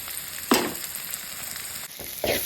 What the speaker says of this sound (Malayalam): ഉള്ളിയും വെളുത്തുള്ളിയും ഇഞ്ചിയും എല്ലാം കൂടെ ചേർത്ത് വഴറ്റിയ സാധനങ്ങളൊക്കെ ഒരു 3/4 ഭാഗത്തോളം വഴണ്ട് വന്നിട്ടുണ്ട്